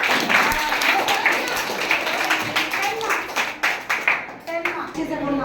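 Children at a summer camp quiz clap to reward a correct answer: a dense, continuous round of applause from a group that fills the room, with an adult voice heard over it.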